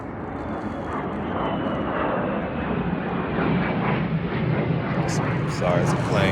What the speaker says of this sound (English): sorry, it's a plane